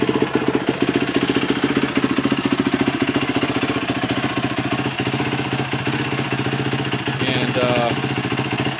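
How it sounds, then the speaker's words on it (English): A Yamaha YZ450F dirt bike idles close by with a steady, loud, rhythmic putter, and someone speaks briefly over the engine. "Normally I let it idle for a little bit."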